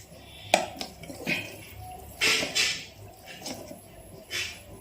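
A spoon scrapes and clinks against a container while scooping homemade curd, giving several short metallic taps and scraping strokes at close range, with brief bits of speech around them.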